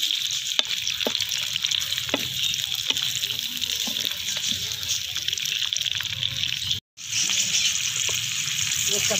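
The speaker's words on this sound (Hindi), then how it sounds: "ये कद्दू को हम पहले सही तरह फ्राई करेंगे ताकि अच्छी तरह ये गल जाए।" Pumpkin fries in a pan for halwa with a steady hiss and sizzle, interrupted by occasional soft scraping clicks of stirring and one brief dropout, close and moderately loud.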